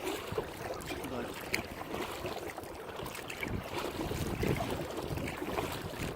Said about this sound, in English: I'm paddling upstream, and my shoulders are hurting